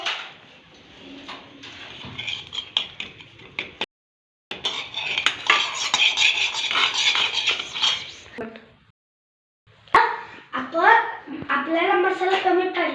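Chapati noodles are stirred in a pan with a utensil, making repeated metal scraping and clinking sounds. Voices, including a child's, talk over parts of the clip, and there are short pauses of silence.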